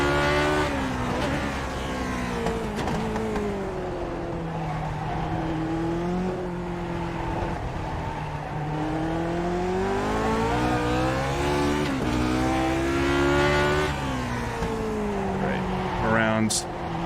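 A Lotus 49 race car engine on an out lap at Zandvoort in the iRacing sim, droning loud and close with steady rising and falling revs through gear changes, ending on a sharp high-pitched burst.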